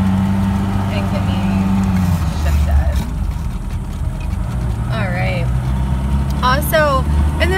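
A 1961 Mercedes-Benz 190SL engine hums steadily on the road, a low, continuous drone close by, with someone speaking intermittently over it.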